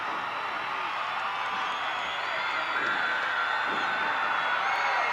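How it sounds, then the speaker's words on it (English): A large wrestling arena crowd at a Universal Wrestling Federation event roars and cheers in a steady, dense wall of noise, distant and continuous, with a commentator talking over it. "this crowd is into it"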